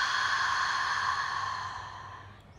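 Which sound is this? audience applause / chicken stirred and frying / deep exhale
deep exhale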